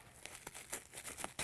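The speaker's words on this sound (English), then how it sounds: "we can remove the clear plastic shrink wrap" A knife cuts through clear plastic shrink wrap on a printer box, giving quiet crinkling and tearing crackles in several quick bursts, close and alone.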